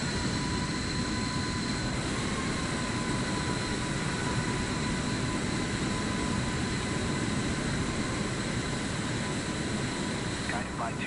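Steady broadband aircraft engine drone in Microsoft Flight Simulator 2024, an airliner taxiing with a constant whine and roar running unbroken and loud throughout, with faint radio-style chatter beneath.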